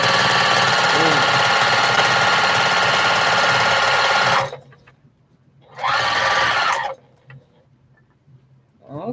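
Sewing machine stitching quilt blocks, running in a loud, rapid, continuous whir for several seconds, stopping, then making a shorter second burst and starting a third at the end, close by.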